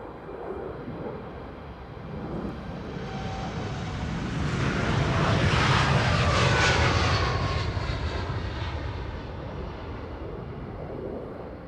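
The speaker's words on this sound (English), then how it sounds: "Right, so this is Air Canada flight 901 to Montreal," Air Canada Boeing 787 Dreamliner, about 11 years old, taking off from Amsterdam Schiphol on a flight to Montreal: a jet roar swelling to a loud peak midway, then slowly fading as it climbs away, no voices.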